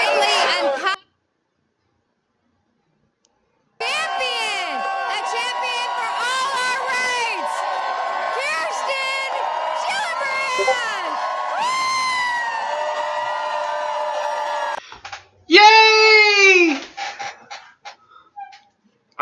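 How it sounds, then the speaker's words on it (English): Protest crowd cheering and whooping in bursts, loud and dense with chatter and shrill voices, cutting off abruptly between outbursts. "Is that really a protest if you're cheering and you're just like whispering in each other's ears?"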